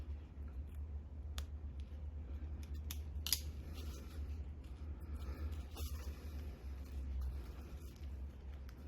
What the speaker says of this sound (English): The problem is the scissors really, it's very hard for them to move into these areas.